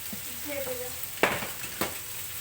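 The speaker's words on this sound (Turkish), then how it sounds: "Tavuğu gayet güzel kavruldu." Quiet sizzling of chicken frying in a pan, with a couple of sharp scraping stirs against the cookware.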